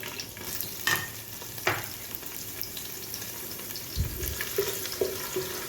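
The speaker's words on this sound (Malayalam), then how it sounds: "ഇത് നമുക്ക് നന്നായിട്ട് ഉള്ളിനെ നല്ലോണം ബ്രൗൺ കളറിൽ ഫ്രൈ ചെയ്തെടുക്കണം." Sliced onion browning in hot oil over a medium flame, a quiet sizzle with occasional stirring scrapes and soft knocks of a utensil on the pan, nearby and without talk.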